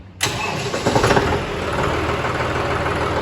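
A John Deere tractor diesel engine cranks and catches with a loud burst, then settles into a steady, rumbling idle close by.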